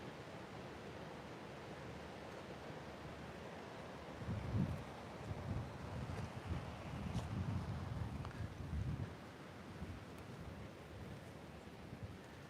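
Ocean breeze and surf at the San Diego oceanfront make a soft, steady wash of wind and waves, faint and distant, with gentle swells of louder rushing midway through.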